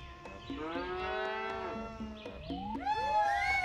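Cows moo in the video game Cow Catcher, several drawn-out bovine calls following one another, loud and close, with no talk over them.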